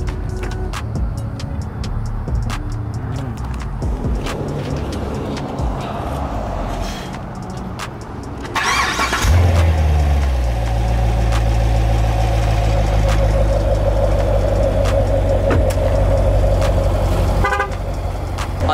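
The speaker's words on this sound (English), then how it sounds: "We're gonna start her up, cold start" A Chevrolet Corvette cold-starts: background noise first, then the engine fires about halfway through and settles into a loud, steady, low idle that runs to the end. No one speaks.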